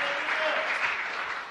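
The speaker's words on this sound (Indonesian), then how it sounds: "Yang setuju beri tepuk tangan untuk Tuhan kita" A church congregation applauds for God in a brief burst of dense, steady clapping that fills the short moment and fades slightly at the end.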